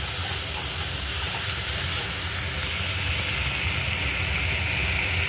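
Slit green chillies drop into hot oil with cooked-down spices, giving a loud, steady, hissing sizzle that carries on without a break from start to finish.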